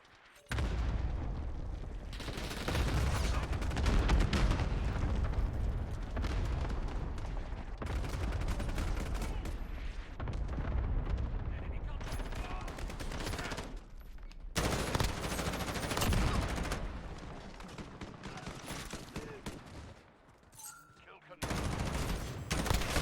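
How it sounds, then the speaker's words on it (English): Sustained rattling automatic gunfire in the video game Call of Duty: Modern Warfare, dense overlapping bursts with brief lulls, loud and continuous through most of the stretch, with no voices over it. "Just guys just sporadically just shooting from a distance."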